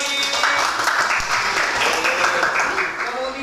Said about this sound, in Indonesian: Tepuk tangan untuk Jovin.